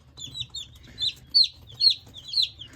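Black Crested White Polish chickens, large fowl, cluck and chatter nearby in a quick repeated series of short calls over a low background hum, with no talking.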